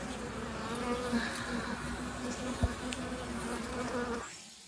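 Honeybees on a brood frame from a double-deep beehive colony make a dense, steady buzzing close by, with a few louder passes of single bees and a short knock, and the sound drops away at the end.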